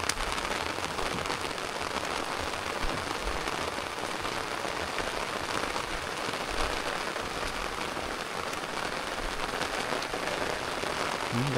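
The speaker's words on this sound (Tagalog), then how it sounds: "Grabe yung ulan" Heavy typhoon rain pouring steadily onto a cornfield and plastic covers in the countryside, a dense, even hiss of drops with no pauses, fairly faint and distant-sounding, no voices.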